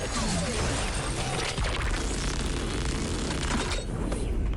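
Explosion damage landing in a mobile video game, a dense burst of crashing, booming impact effects that fills the clip at steady loudness before tailing off near the end.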